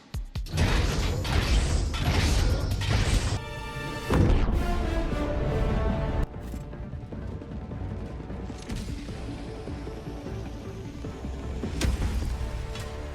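Heavy metallic crashing and grinding as a drop pod makes a hard landing in Helldivers 2, with a loud impact followed by creaking, rattling mechanical sounds that die down and then swell again.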